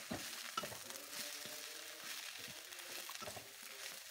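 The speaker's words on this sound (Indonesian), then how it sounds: "Ini saya aduk kurang lebih 3 sampai 4 menit ya" Food for a packed lunch fries in a pan as it is stirred, a soft, fairly quiet sizzle with repeated spoon scrapes and taps at an uneven rhythm, heard alone.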